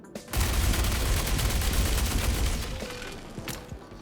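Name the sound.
Fresnel Volt LMG firing in Star Citizen video game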